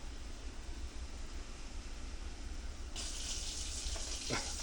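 Water pours from a Solo cup into a crock pot of turkey and vegetable soup with pearl onions, a steady close splashing gush that grows brighter partway through.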